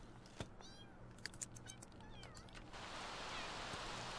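A cat meows in The Sims 3 life simulation game, several short quiet mews and chirps over soft background game ambience that swells into a steady rain-like hiss near the end.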